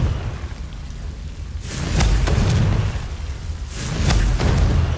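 In Hogwarts Legacy, a Confringo fire spell blasts twice, each a booming, rumbling burst of crackling noise that swells and lingers over steady ambient game sound.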